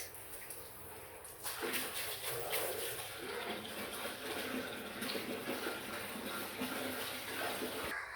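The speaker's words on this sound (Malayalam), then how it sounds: "വെള്ളം ഒഴിക്കുകയാണ് ഗൈസ്." Water gushes steadily into a tub outdoors, starting after a second and running on as a continuous loud splashing pour until the end.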